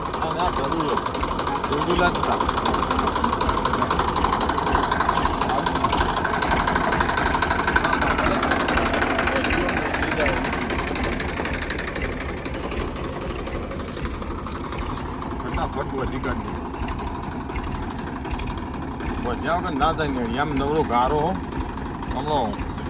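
A tractor engine runs steadily in a Gujarati village, with a continuous low chugging drone that fills the scene while people talk over it throughout.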